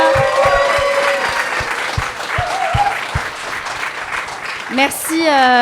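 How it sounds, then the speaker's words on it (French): Steady applause from a crowd fills the clip, with a few loud cheers and whoops rising over the clapping. "Est-ce que vous pouvez encore les applaudir, s'il vous plaît?"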